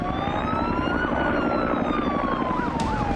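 Police car sirens wailing as cars pull up near a beach, a loud, steady rising-and-falling wail close by over background traffic rumble, with no talking.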